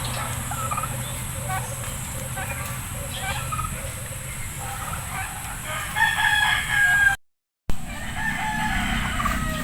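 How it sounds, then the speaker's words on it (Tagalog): White chickens cluck and call intermittently on a farm against a steady outdoor background, with one brief dropout near the end. "Daming puting manok guys."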